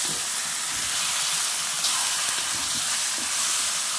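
Chicken tinola being stirred in a pot over a steady, close sizzle and hiss of frying, with faint scrapes of the spoon beneath it and no voices.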